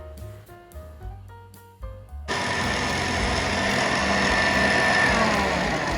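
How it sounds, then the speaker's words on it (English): An electric mixer blends flour, baking powder and salt for a vanilla cake batter. After a couple of seconds of soft tonal music, its loud, constant motor whir starts abruptly and holds. "That is what she is mixing right now."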